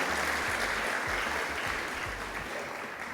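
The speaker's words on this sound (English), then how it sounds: "African First Ladies deserve a round of applause for their hard work" Applause from a summit audience honoring the African First Ladies, a dense steady wash of clapping that fades slightly toward the end.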